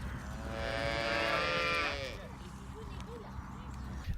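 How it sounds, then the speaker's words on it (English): Young calves moo on a farm in New Zealand, one drawn-out, strained call up close lasting about two seconds, followed by softer shorter bleating sounds over steady background noise. "we got to see an entire farm of baby cows, which Ellie was super pumped about."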